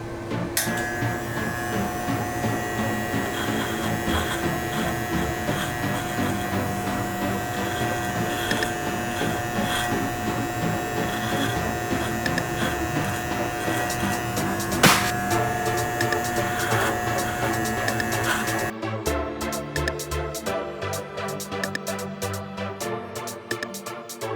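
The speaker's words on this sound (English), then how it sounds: "So we're gonna grab our T-liner, and what you're gonna do is we're going to just shave right above the lip" A T-liner electric trimmer shaves just above the upper lip, a continuous close buzzing hum for most of the stretch that cuts off near the end, leaving a quieter, uneven texture.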